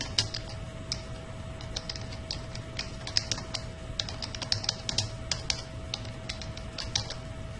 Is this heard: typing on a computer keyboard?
yes